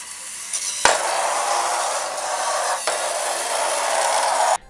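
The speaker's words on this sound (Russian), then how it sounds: "давайте заставим робота вначале просто ехать прямо, разворачиваться и снова двигаться прямо" A small Arduino-built robot with motors driven by PWM runs with a continuous hissing whir, broken by a couple of brief clicks or bumps as it drives straight and turns, ending abruptly.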